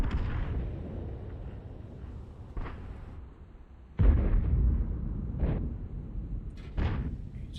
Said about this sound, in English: Just fired 2 shells